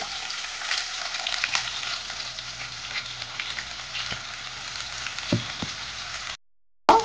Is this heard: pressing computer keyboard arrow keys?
no